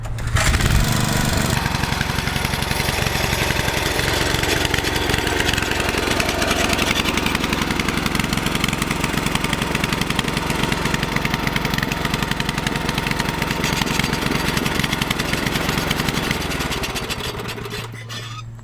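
A roadside-salvaged garden tiller's small engine runs steadily and loud for the whole stretch, a constant mechanical drone that fades slightly near the end, with no talking.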